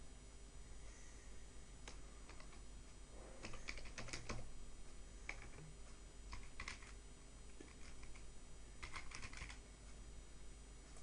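Someone typing text on a computer keyboard in a quiet room, with faint, scattered key clicks and small bursts of taps over a steady low background hum and no talking.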